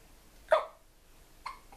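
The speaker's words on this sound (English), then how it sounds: "Oh no, you got hiccups, I'm sorry." Two short hiccups from a baby, a sharp one near the start and a softer one about a second later, close and quiet with no talking.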